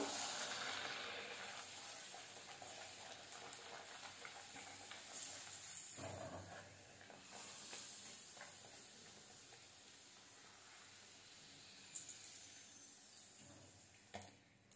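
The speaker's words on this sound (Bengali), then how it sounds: "এবার কচুরিগুলো এই গরম তেলে ভেজে নেব।" Kachori frying in plenty of hot oil in a wok on a gas stove makes a continuous bubbling sizzle and hiss, with brief louder crackles as they are turned and no talk.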